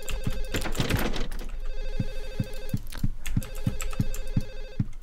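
An in-game telephone rings in the apartment in Silent Hill 4, a steady run of repeated electronic ring bursts in an even rhythm over low game ambience, with no talking.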